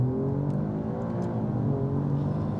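A 2022 Alfa Romeo Giulia Quadrifoglio accelerating hard in race mode with manual shifting, a loud, steady engine drone heard from inside the cabin and rising gradually, with no talk.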